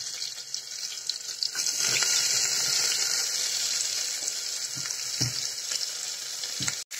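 Cumin and chopped onion frying for vegetable fried rice, a steady bright sizzle in a hot pan with occasional stirring knocks, close and continuous without speech.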